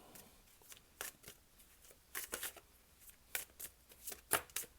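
Tarot cards being shuffled by hand during a reading, a run of crisp riffling flurries and soft slaps that come in short bursts with quiet gaps, close and fairly quiet, with no talking.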